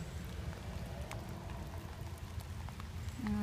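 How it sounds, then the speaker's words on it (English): Rain falls steadily at a cemetery beside an old crypt, an even, close hiss of drops that swells slightly at the end, with no voices. "it's raining."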